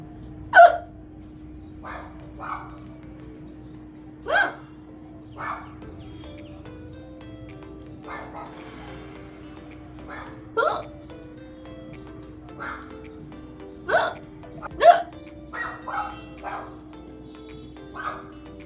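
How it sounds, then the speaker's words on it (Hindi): Repeated hiccups in a hot indoor setting, short sharp vocal bursts spaced irregularly over a steady low electrical hum, several loud and others faint, with no talk between them. "अरे यार आज हिचकी बंद ही नहीं होगा यार।"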